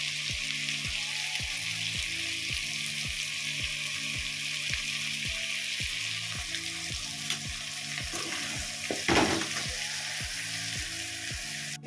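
Meat and cut potatoes frying in hot oil in a home kitchen give a steady, close sizzle, broken by regular rhythmic scraping strokes as the pan is stirred, with one louder burst near the end.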